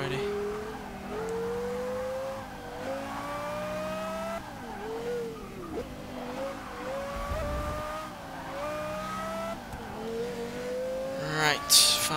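A Porsche Carrera GT racing in Forza 6, its engine climbing and dropping through gear changes with brief tire squeals and a sharp burst near the end, loud and close, with a voice faintly underneath.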